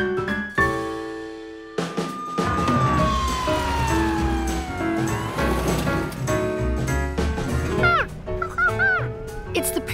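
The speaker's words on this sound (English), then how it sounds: "Hey, George, would you like to ride in the ambulance with us?" A cartoon ambulance siren wails loudly and rises and falls in pitch, starting abruptly after a short pause, with a honk and characters' voices mixed in near the end.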